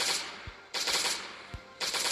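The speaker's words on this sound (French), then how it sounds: "j'essaye de faire des toutes petites rafales de 3 coups pour essayer de faire le moins de miss possible" An M16 in the Last Day on Earth video game fires short rapid bursts of about three rounds, three bursts spaced evenly with brief pauses between, crisp and fairly loud with no talking.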